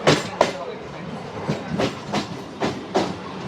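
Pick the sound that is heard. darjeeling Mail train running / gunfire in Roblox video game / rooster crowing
darjeeling Mail train running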